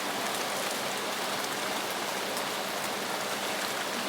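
Water jets spray continuously at a restaurant, making a steady, dense hiss of falling water that stays even and moderately faint throughout, with no speech.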